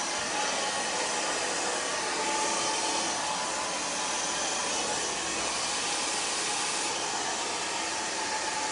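A hair dryer blows steadily and loudly throughout a round-brush blow-dry while cutting a blunt bob, giving a continuous broadband airy roar with no voices.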